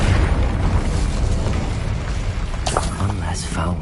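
An Incendio fire spell bursts in Hogwarts Legacy on PS5, a dense roaring blast of flame filling the whole moment with a crackling rush, while a voice calls out spells over the combat noise near the end.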